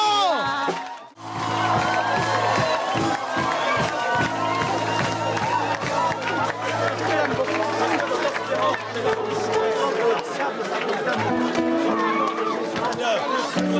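A church crowd cheers and acclaims Jesus, with whoops, shouting and chatter over sustained music tones, briefly dipping before swelling again into continuous noisy acclamation.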